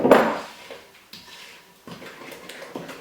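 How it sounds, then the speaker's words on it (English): A spoon beats sponge cake batter in a bowl, a loud clattering knock at first, then a run of softer irregular taps and scrapes against the bowl, with no voices. "Just give it a real good beating with the spoon."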